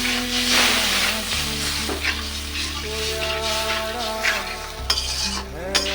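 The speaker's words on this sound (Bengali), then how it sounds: "এখন মশলা কষানোর জন্য একটু জল দিয়া দিলাম" Spice paste for a rita fish curry sautéing in a pan with a little added water, a loud, dense sizzle and bubbling with stirring scrapes and a few utensil clinks, alongside a steady low hum.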